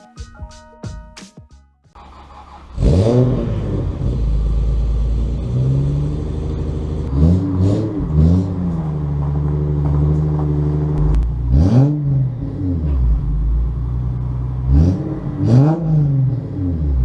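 A 1988 Nissan 200SX S12 engine starts up loudly and idles close by, with repeated revs rising and falling as the car is driven into a garage.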